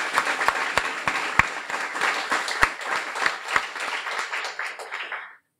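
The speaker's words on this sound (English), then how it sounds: "Let's have one big round of applause for Michelle Munier" Audience at a Guiding Eyes graduation ceremony breaking into applause, a dense crowd of clapping with a few sharp nearby claps standing out, fading away after about five seconds.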